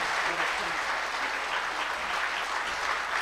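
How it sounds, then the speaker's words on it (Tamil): A packed hall at a Tamil motivational speech gives a loud ovation, a thick, continuous roar of clapping that stays level throughout, with a faint voice underneath. "நன்றி ஐயாக்கு ஒரு பலத்த கைத்தட்டலோட"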